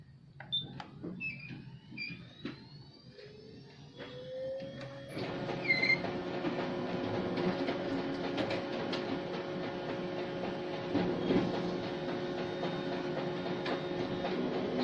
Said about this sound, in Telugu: ఇప్పుడు మనం కాపీ కొట్టి చూద్దాం